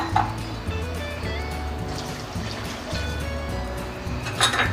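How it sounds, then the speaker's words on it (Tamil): Water is poured into a pan of vegetables cooking for white kurma, giving a steady liquid trickle and splash over a low background hum. "தேவையான அளவுக்கு தண்ணி ஊற்றிக்கலாம்"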